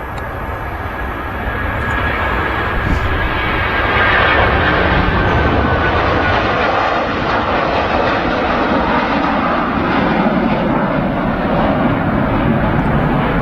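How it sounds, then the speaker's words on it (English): A Virgin Atlantic airliner departing Manchester Airport, a loud sustained jet engine roar that stays broad and steady throughout, heard from outdoors with no talk over it. "Virgin Atlantic on a departure."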